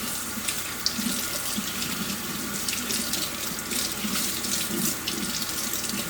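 Water runs steadily from a kitchen faucet as peeled hard-boiled eggs are rinsed, a constant splashing hiss at fairly close range with a small knock near the start, and no voices.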